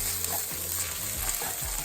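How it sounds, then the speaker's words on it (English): Grated ginger and garlic hiss loudly in a hot pan for a chicken curry, a dense unbroken sizzle heard up close with no talk. "Now I'm going to add the ginger garlic grated"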